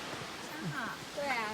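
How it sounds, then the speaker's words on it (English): Rushing water of Wufengqi Waterfall in Jiaoxi, Yilan, Taiwan, a steady broad hiss heard from a distance along a mountain trail, with faint voices talking over it. "I hear water again."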